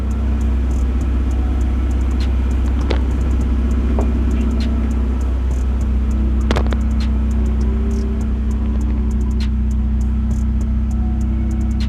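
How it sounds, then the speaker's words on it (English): A car with a modified exhaust idles steadily nearby, a loud, continuous deep rumble with a few faint clicks and no talking. "It has a modified exhaust on it, in which case I am going to change it and make it a little bit quieter."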